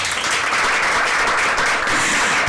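Audience applause at a reading contest show, a dense, loud, sustained clapping from a full crowd throughout.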